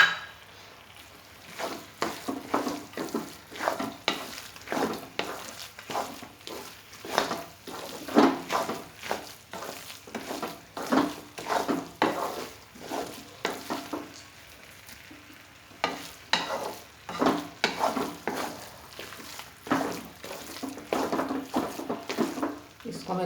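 Dry fruits and raisins being stirred and roasted in a pan for methi gond laddu, with repeated scraping strokes of a spoon and a soft sizzle throughout, close, with someone speaking at times.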